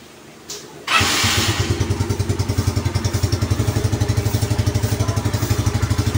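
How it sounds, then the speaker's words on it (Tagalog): A Yamaha Mio Sporty scooter with a charging fault cranks and catches, then settles into a steady, rapid idle with a regular pulsing putter, close by and fairly loud. "Buksan natin ang makina."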